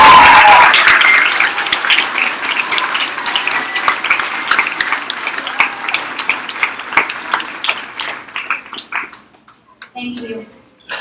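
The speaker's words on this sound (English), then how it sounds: "Let's give these ladies and gentlemen one last round of" An audience breaks into loud, sustained applause at a school awards ceremony, dense clapping that slowly thins out and fades over about ten seconds before a voice begins speaking.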